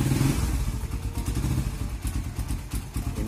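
A motorcycle engine starts once its anti-theft alarm is unlocked, then runs loud and close with a rough clattering idle and a few uneven revs, and no voices.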